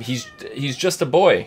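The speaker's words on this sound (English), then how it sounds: "That's just a cat." A cat meows close by, a few short harmonic cries mixed in with someone speaking over them.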